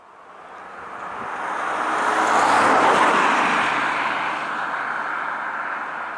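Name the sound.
road traffic passing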